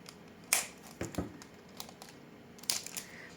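Adhesive tape handled while fastening the top and bottom parts of a bracelet clasp: a few short crinkling, tearing bursts spaced over a few seconds, close and fairly quiet, with no talk.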